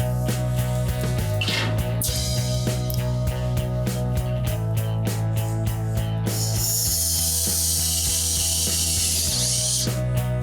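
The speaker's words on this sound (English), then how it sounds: "start putting some set screws in place to hold the rest of the trunk floor in" A ratchet cranks set screws into the trunk floor of a 1971 Dodge Super Bee barn find, giving a steady run of close, rapid clicking bursts with brief pauses, alone with no talk.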